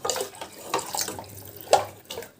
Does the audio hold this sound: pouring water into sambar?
yes